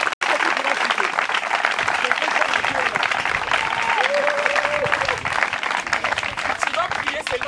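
A church congregation at a prayer service applauds for the Lord, dense continuous clapping filling the room with crowd noise and voices mixed in throughout.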